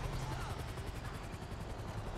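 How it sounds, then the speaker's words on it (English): A helicopter in the GTA 5 game, heard during an LSPDFR fire and EMS session, gives a faint rhythmic rotor chop far off with a quiet, steady throb and no speech over it. "I heard a chopper from somewhere."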